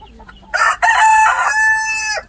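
A Barred Rock hen lets out one loud, drawn-out call close by, starting with a couple of short clucks and ending in a sustained squawk.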